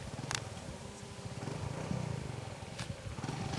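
A motorcycle engine on a ride toward a mountain overlooking the Congo River drones steadily and continuously, with faint clattering.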